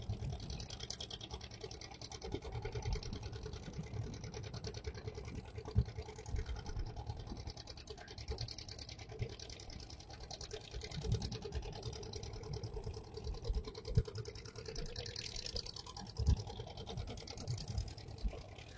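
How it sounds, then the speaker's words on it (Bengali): Boats motor through the river estuary at Taki, their engines a steady low drone and chug held at a distance. A faint voice comes in now and then over the continuous outdoor rumble. "যে মোহনায় এই বোটগুলো চলাচল করছে"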